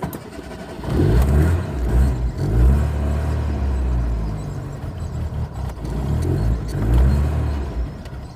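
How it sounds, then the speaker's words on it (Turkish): A Fiat Uno engine idling in neutral, a close low rumble that swells and dips unevenly rather than holding steady, like an unstable idle, with no talk over it. "Şimdi rölanti sabit kalmıyor."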